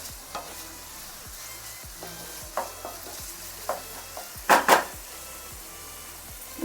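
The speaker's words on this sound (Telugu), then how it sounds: "ఒక 2-3 సెకండ్లు ఇది ఫ్రై చేద్దాం." Brinjal and tomato fry in a pan with a soft continuous sizzle, broken by occasional scraping stirs and a couple of sharper clinks of the spatula against the pan, close by and without talk.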